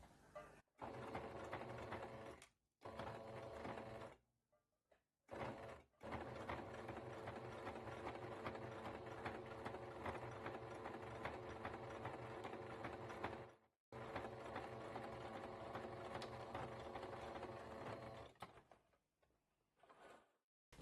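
A sewing machine stitches bias binding in steady whirring runs broken by short pauses, clear and close with no talking.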